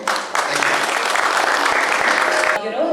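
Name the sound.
audience applause at a brand launch event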